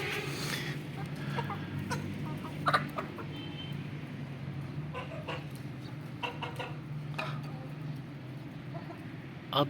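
Red Mushka and Lasani chickens clucking steadily, with a few sharper clucks and calls, close by in a farmyard with faint background noise.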